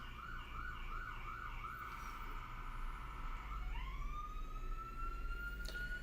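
An ambulance siren wails past, first in a rapid rising-and-falling yelp, then switching to a long steady tone that bends downward as the vehicle goes by, loud over a constant low traffic rumble.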